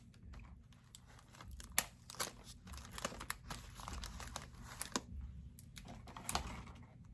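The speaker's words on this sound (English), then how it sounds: "I think I need to put another piece of tape on there." A strip of tape is pressed and smoothed onto a container while winter sowing peppers, eggplant and herbs, giving close, irregular crinkling and crackling bursts with sharp little snaps and no talk.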